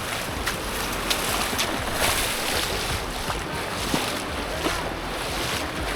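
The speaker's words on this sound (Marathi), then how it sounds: "ही बोट आहे आपली आता" Boat moving on the sea near Padmadurga fort, a continuous engine drone with wind buffeting the microphone and water splashing against the hull, with occasional sharp knocks.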